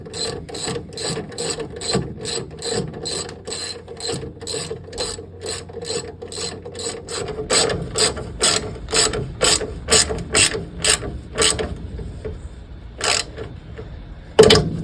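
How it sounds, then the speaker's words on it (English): A ratchet clicks rapidly in repeated bursts as it tightens the front shock mount bolts on an MG during a suspension lowering spacer fit. The clicking is close and steady, then becomes sparser and louder toward the end. "Just need to nip up the shock mount."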